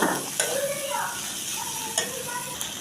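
Vegetable curry with pre-fried potatoes sizzles and bubbles steadily in a pan, a continuous frying hiss broken by a few sharp stirring clinks.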